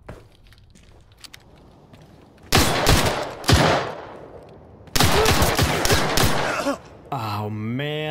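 Loud bursts of shotgun fire from the shooter game Arena Breakout Infinite, two close blasts a few seconds apart with a busy rattle of footsteps and shots between, followed by a short voiced sound at the end.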